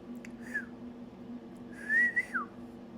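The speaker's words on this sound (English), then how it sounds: "I hear him whistling at me in the egg, which means he is ready to come out." An emu chick still inside its egg gives faint, thin whistles: one short rising note, then after a pause a longer whistle that slides up and drops away, over quiet room hum.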